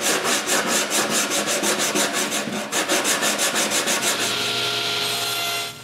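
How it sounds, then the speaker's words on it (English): Plywood being sanded smooth after cutting a coat-rack shape, a steady rhythmic back-and-forth rubbing with about twenty regular strokes, loud and close, then settling into a continuous even scrape before stopping, no voice. "Next, I sand it smooth."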